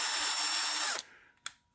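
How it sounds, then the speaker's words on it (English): A Worx cordless drill with a Torx bit whirs loudly and steadily for about a second, then stops; a brief second burst of the motor follows a moment later. "here's the original freaking Worx drill"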